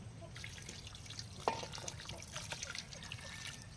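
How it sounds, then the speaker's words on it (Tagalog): Water trickles and drips into a pot of squash candy simmering over a low flame, faint and close, with one sharper splash partway through. "Magdaradag po ako ng tubig."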